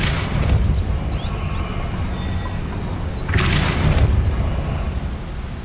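A Depulso spell cast in the video game Hogwarts Legacy, giving two muffled booming bursts, one at the start and one near the middle, over a steady low rumble of game ambience.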